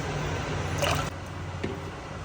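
Water is poured into a pot of rice and dal for pulao: a short splashing, gurgling pour ends abruptly, followed by a faint settling drip, close and without speech.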